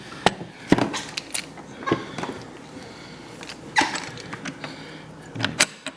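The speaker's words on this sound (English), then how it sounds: "I can move the bolt carrier just a little bit" The stuck bolt carrier of a Yugo M92 rifle is worked by hand, giving scattered faint metallic clicks and scrapes at irregular intervals against a quiet background.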